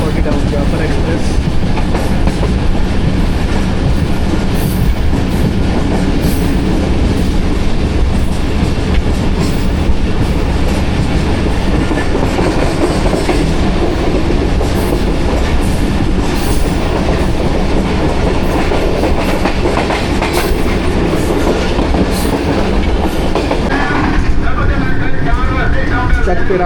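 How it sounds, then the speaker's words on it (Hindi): The Jaffar Express passenger train runs on rails between Rawalpindi and Lahore, with a loud continuous rumble and rhythmic clickety-clack of wheels over track joints heard from on board, and voices talking over the noise. "चुआ कड़ियाला पास कर रही है हमारी ट्रेन 40 टाउन जाफर एक्सप्रेस।"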